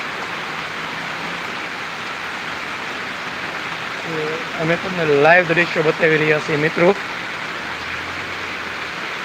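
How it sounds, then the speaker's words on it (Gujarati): Steady hiss of a heavy downpour over a village farm field fills the whole clip, with someone talking over it in the middle stretch. "ધોધમાર વરસાદ પડી રહ્યો"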